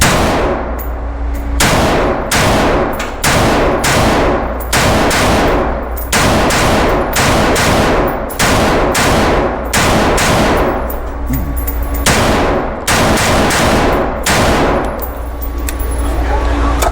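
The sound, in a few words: Watchtower Type 15 rifle firing Winchester 5.56 ammunition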